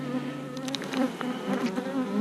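Very mean bees in a beehive fitted with beetle traps hum with a steady, dense buzz, loud and close throughout, with no talking.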